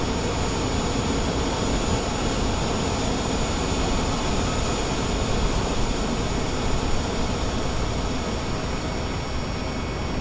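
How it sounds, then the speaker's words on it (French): Steady loud roar of an Airbus A320 auxiliary power unit running on the ramp at Paris Orly before pushback, a dense continuous whine and rumble with no break and no speech. "Voilà, l'APU, ça fait beaucoup de bruit."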